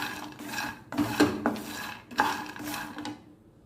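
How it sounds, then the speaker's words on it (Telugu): Peanuts roasted in a pan, stirred in bursts that give dry rasping, rattling scrapes with short pauses between strokes, close and alone without talking. "1 కప్పు పల్లీలు తీసుకొని వేయించుకుందాము."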